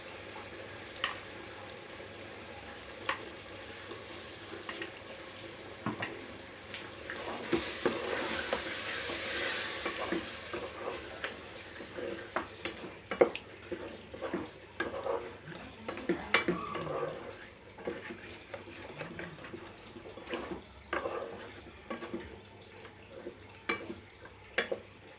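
Chicken being browned and stirred in a pan with spoonfuls of yogurt added for a restaurant-style do pyaza gravy, with a faint low sizzle, occasional spoon taps and scrapes, and some quiet background noise.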